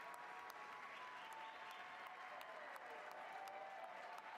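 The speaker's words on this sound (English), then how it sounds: "Why are you cheering?" A large crowd applauding and cheering in the House chamber at the 2023 State of the Union, sustained and even throughout, with a faint tone running beneath.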